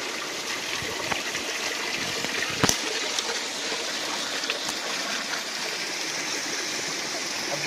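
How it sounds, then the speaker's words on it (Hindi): Natural spring water flowing from an old stepwell at a temple in Dehradun, a steady, moderately loud rush and trickle of running water, continuous throughout with a brief sharp knock partway through. "ये पानी जो पावड़ी का है वही जाके बिंदाल नदी में मिल जाता है"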